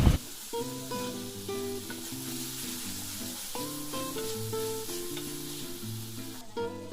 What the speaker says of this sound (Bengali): তেল আর মশলাটা তখন আমি ভেজে রাখা ডালটা অ্যাড করে দিচ্ছি ভালো করে মিশিয়ে নিচ্ছি